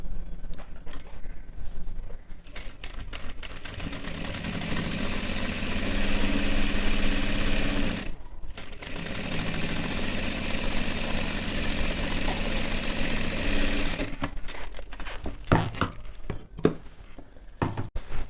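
Sewing machine stitching a double seam on tight pants: a steady, loud mechanical whirring hum that runs continuously, briefly stops and restarts, then ends with sparse clicks.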